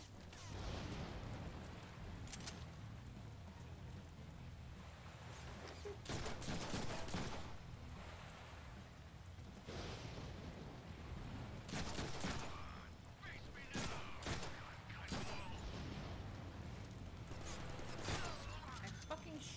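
Gunfire in the Deadpool video game, repeated shots and bursts scattered over a steady background of game noise and music, with a voice talking now and then.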